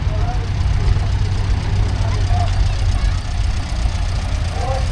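A Fordson Major diesel tractor running at a country show, a steady low idling chug close by with a constant rumble, while people talk over it.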